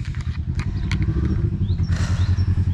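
A motorcycle engine chugs nearby with a loud, uneven, pulsing idle rhythm. There are light clattering knocks over it and a short hiss near the end.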